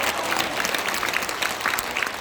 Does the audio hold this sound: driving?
no